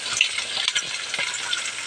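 Tamban fish fries in hot oil with a close, continuous crackling sizzle and scattered pops and spatters, the only sound present.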